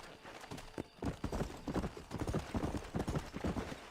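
Horse hooves clip-clop in a steady, close trotting rhythm in Red Dead Redemption on PS5, moderately loud with no talk over them.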